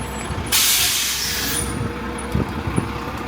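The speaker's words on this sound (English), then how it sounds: "There's the hop-on, hop-off bus." A hop-on hop-off tour bus on a Varadero, Cuba street lets out one loud, sustained air-brake hiss of about a second, set against steady traffic rumble and a few faint knocks.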